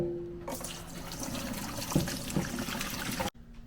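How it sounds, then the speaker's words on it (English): Sheepshead fish pho broth streams through a strainer in a steady close trickle and splash, continuous for a few seconds before cutting off abruptly. "Our soup is nice and brothy, so we're going to go ahead and strain it."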